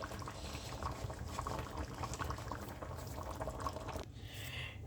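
Fish and mushrooms simmer in a cream sauce in a pan, giving a continuous close bubbling and gentle sizzle that shifts in tone near the end.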